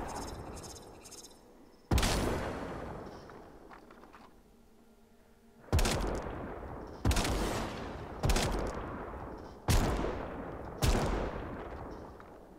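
Gunfire in the video game Warframe: six sharp, loud shots spaced a second or two apart, each cracking sharply then trailing off in a long echoing decay, with faint insect-like chirping in the quiet gaps.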